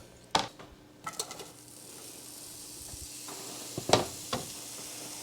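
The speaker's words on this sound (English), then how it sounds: "I already cut up some onion, so we're gonna get that going in a pan to start our onion jam" Cut onions go into a pan for onion jam. A few sharp clanks of pan and utensil come first, then a soft, quiet sizzle builds steadily underneath them.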